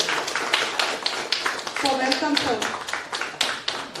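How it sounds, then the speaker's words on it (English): An audience claps to welcome a guest speaker at a Teacher's Day university event, a steady crackle of many hands with someone speaking briefly over it. "Give him a big round of applause"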